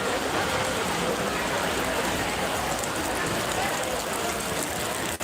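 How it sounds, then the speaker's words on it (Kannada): Heavy rain pours steadily as a dense, continuous hiss of drops on surfaces, loud and unbroken throughout. "ಹೊರಗಡೆ ತುಂಬ ಮಳೆ ಬರ್ತಿದೆ"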